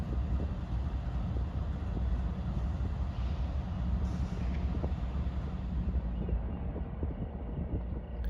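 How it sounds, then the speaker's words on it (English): A commuter train pulling into Framingham station while an inbound train waits: a continuous loud low rumble with faint hissing on top that fades slightly toward the end. "And here it is, pulling into the station with the inbound sitting waiting for it."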